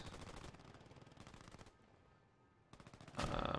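Automatic gunfire in the WWII shooter Post Scriptum, rapid bursts of machine-gun fire rattling out, pausing briefly, then a louder, closer burst at the end.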